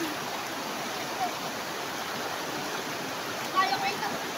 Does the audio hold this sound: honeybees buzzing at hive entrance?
no